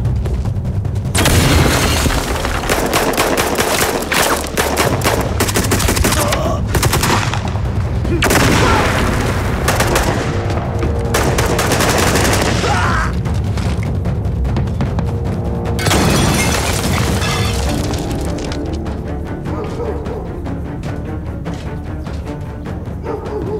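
Loud, dense gunfire and heavy booming blasts from a grenade explosion during a spy-movie firefight, near and continuous, with shouted voices breaking in over the shooting.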